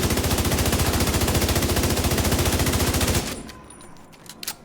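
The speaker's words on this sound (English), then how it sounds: "I'll just fire a mag up into this wall." Full magazine of automatic gunfire emptied into a wall in The Division 2, a loud, rapid, evenly spaced stream of shots for about three seconds, then a stop followed by faint clicks and handling sounds.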